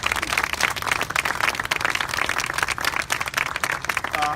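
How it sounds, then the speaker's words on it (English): An audience at a state senator's funding announcement for domestic violence services claps steadily, a dense, even wash of applause that holds for the whole stretch with no voices breaking through. "So give yourselves another big round of applause."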